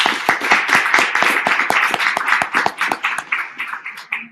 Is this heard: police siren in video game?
no